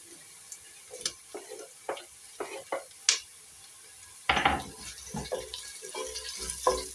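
Garlic and ginger added to cooked onions in a pot (sufuria) for pilau with potatoes, clattering with a spoon in scattered knocks and scrapes, then a louder burst of sizzle and stirring near the end.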